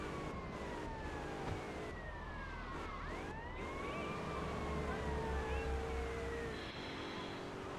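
A police car siren wails in Liberty City Stories, several overlapping sweeping tones rising and falling continuously over engine rumble and traffic noise, moderately distant and steady throughout.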